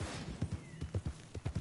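Hooves clip-clopping at a walk in Red Dead Online, near a stable, a brief run of soft rhythmic thuds at a steady pace, fairly faint, without speech.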